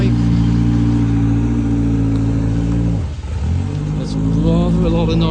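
Classic rally cars such as a Renault 5 Turbo 2, Mitsubishi Evo and Peugeot 205 at a rally event, a loud close engine revving, with a brief dip before it climbs again.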